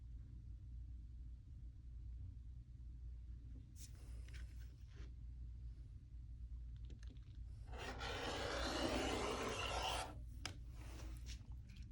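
Quilting fabric is cut into strips with a soft sliding rasp, brief scrapes near the 4-second mark, then a louder sustained cutting stroke lasting about two seconds, all over a steady low background rumble.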